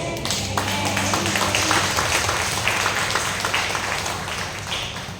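Loud applause from a church congregation during a Filipino sermon on the Bread of Life, a dense, steady wash of clapping that fills the whole span without pause.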